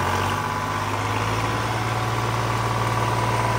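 Mahindra Arjun NOVO tractor engine running steadily, a loud continuous low diesel hum and rumble with no clear rise in pitch during this short stretch, with no talking.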